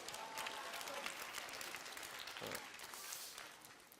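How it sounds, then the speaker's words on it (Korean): A church youth group audience gives steady applause for a teacher: continuous, even clapping from a modest crowd, sustained at a fairly constant level throughout. "우리 박수 한번 보내요"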